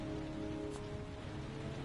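Steady rain patters softly in a video game scene, a faint continuous wash of drops with no talking.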